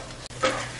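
Spoon stirring onion with ginger garlic paste, turmeric and coriander powder in a hot pan for egg biryani: a steady close sizzle with one brief sharp scrape of the utensil against the pan midway, no voices.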